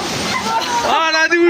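Water crashes over people aboard a boat, a brief sloshing splash that soaks them, with excited voices mixed in.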